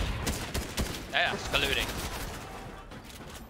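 Rapid gunfire bursts from Fortnite gameplay crackle through the mix, with a player talking over the shots.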